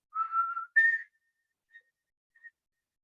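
A person whistles an imitation of a white-throated sparrow's song: a clear sustained note, then a higher wavering note, followed by two faint short echoing tones, alone in silence.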